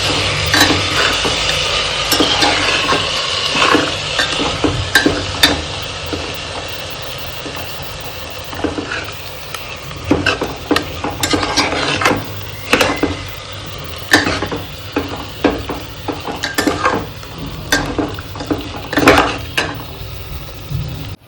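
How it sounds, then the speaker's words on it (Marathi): Washed rice being stirred into a veg pulao mixture in a metal pot, with repeated close scraping and clinking of a spoon against the pot over about twenty seconds. "सगळं त्याला मिक्स करायचं आहे मिश्रण."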